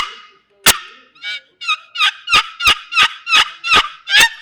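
An old aluminum box turkey call played loudly for turkey hunting, giving one sharp crack and then a run of about nine loud, rhythmic raspy yelps close by, with no talking.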